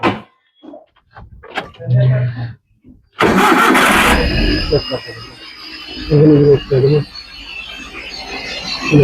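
An engine cranks and catches, then settles into a steady running rumble, with brief voices nearby before and after it starts.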